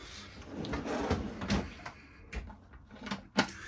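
A deep wooden drawer in a van's bed platform slides open or shut, giving a few soft knocks and scrapes close by in a quiet space.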